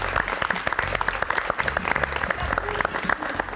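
Applause from a live audience at a French show with hosts Byilhan and Nico, steady dense clapping throughout with a few voices mixed in.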